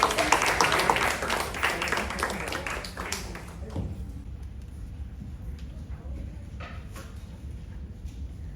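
Listeners at a Singapore National Day Tamil debate applaud, a lively burst of many clapping hands that thins out and fades to scattered claps and room quiet.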